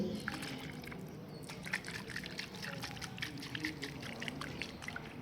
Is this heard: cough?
no